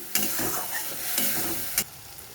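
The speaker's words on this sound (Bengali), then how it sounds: "এবারে আমি এই মশলাগুলোকে ভালোভাবে কষিয়ে নেব" Masala spices frying in oil for egg curry, stirred in the pan with a bright sizzle broken by a few scraping spoon strokes, close up, with no voices.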